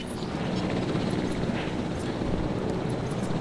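Continuous rotor drone of a helicopter in Jurassic World Evolution, a steady low whirring hum with faint wind-like noise, no clear voices.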